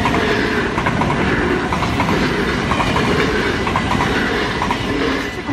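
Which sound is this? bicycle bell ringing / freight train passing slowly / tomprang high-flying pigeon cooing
freight train passing slowly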